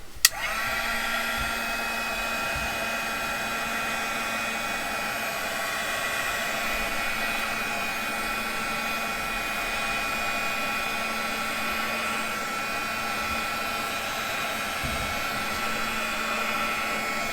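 A heat gun blowing on recycled plastic makes a steady, loud whooshing roar with a constant whine, starting with a click and running evenly throughout with no talking.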